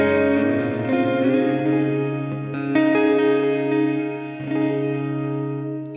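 Electric guitar played through a 1999 Boss RV-3 digital delay and reverb pedal in stereo into an Iridium on a Fender setting: sustained chords with long, washing reverb tails and echoes, a few fresh strums, steady and fairly loud with no talk.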